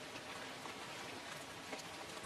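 Steady rain falls outside, a soft, even hiss of drops with no breaks, faint and uniform throughout.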